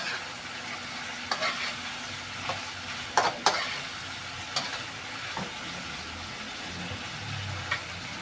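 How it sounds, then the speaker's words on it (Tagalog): Chicken gizzards and liver sautéing in a pan give a faint, steady sizzle broken by a few sharp scrapes and clinks of stirring, with no talking. "igisa lang po natin ang gusto mga paps para lumambot po yung ating balon-balunan"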